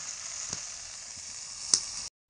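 Potato pieces sizzle steadily in a frying pan before sesame seeds are added, a close continuous crackling hiss with a couple of sharper pops, then a sudden cut to silence.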